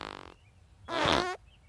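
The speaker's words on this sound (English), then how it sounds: "This is the first time we hear Homer audibly fart" Homer Simpson lets out a cartoon fart, a short buzzy blast followed by a longer, louder, wavering flatulent rasp, isolated against a quiet background.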